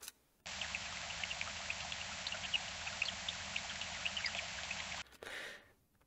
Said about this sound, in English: sounds like a stream near a summer meadow. It got some birds in there, and some, like, water drops